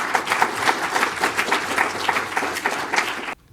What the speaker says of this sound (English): Round of applause for Nicholas.